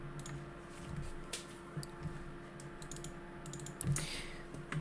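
Quiet typing on a computer keyboard, a scattered run of soft key clicks with brief pauses over a steady electrical hum, no voices.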